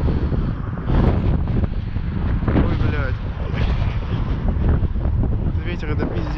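Strong wind roars and buffets the microphone without a break, a heavy rumbling blast that almost buries a faint voice.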